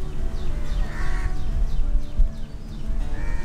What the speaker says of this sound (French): Il y a juste on entend les corbeaux